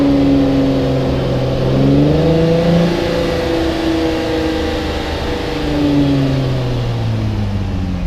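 An Infiniti G35 engine revs up and holds around 3,000 RPM during a coolant bleed, a steady close mechanical drone with pitch rising, easing slightly and climbing again over several seconds.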